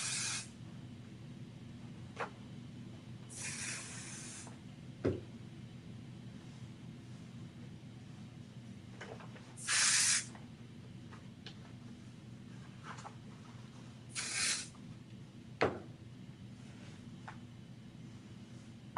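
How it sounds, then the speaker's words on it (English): Temporary spray adhesive, 505 spray, misted onto fabric for embroidery: several short hissing bursts of an aerosol can, separated by quiet pauses with faint handling clicks in a quiet room. "I'm going to spray that 505"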